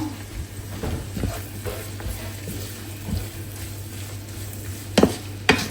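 Shrimp fry with plenty of onions in a pan, giving a steady soft sizzle with occasional stirring scrapes and two sharper clinks of a utensil near the end.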